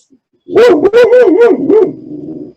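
A dog lets out a close, loud run of rapid barks and yelps, about five sharp bursts over a tonal whine, trailing off into a softer whimper.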